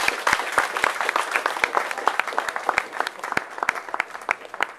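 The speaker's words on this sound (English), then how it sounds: "One big round of applause for Tom." An audience at a talk with the founder of Eagle Boys Pizza applauds Tom Potter with steady, dense clapping that holds evenly the whole time.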